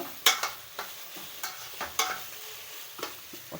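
Green chillies and capsicum stirred in a pan, several sharp spatula scrapes at uneven intervals over a faint sizzle, close and fairly quiet with no voices.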